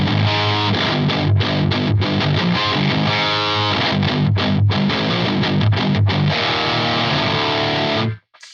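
A heavily distorted 7-string electric guitar, run through an EQD pedal with extra gain, chugs a dense, loud riff of rhythmic palm-muted bursts and sustained chords that stops sharply at the end.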